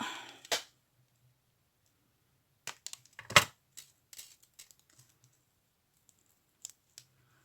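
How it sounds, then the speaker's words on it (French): Scissors snip through fabric during a sewing project, giving a few sharp close cuts followed by scattered faint clicks and handling noises in an otherwise quiet room. "Ciseaux."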